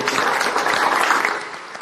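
An audience claps together at a public event marking National Girl Child Day, a dense burst of applause that holds steady and then eases slightly toward the end.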